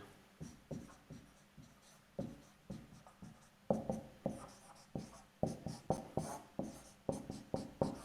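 Chalk or marker strikes on a board during a physics lecture, a steady run of short tapping and scraping strokes in irregular bursts, fairly close and moderately loud, with no talking.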